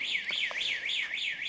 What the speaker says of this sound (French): j'ai fait péter l'alarme du voisin